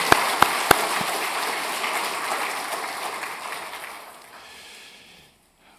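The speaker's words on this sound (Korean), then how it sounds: "큰 박수로 환영하겠습니다" A church congregation applauding to welcome the preacher at a Sunday service, a dense burst of clapping with a few sharp claps at the start, gradually thinning and fading out into near silence.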